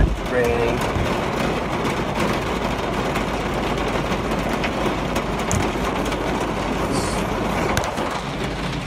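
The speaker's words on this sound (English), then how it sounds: "You can hear it raining." Rain falls steadily in a dense, even patter that fills the background throughout, with a few faint voices and brief tones briefly audible beneath it.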